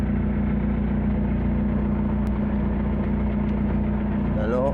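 A Nissan Terrano 4x4 fitted with a 14BT diesel engine, shifted into low range, runs steadily at a low, droning pitch throughout, loud and close, with a brief higher-pitched whine near the end.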